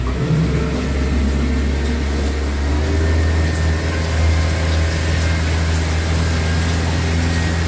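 The engine of a Hewescraft 180 boat running steadily in gear, a loud continuous low drone heard up close with no pauses.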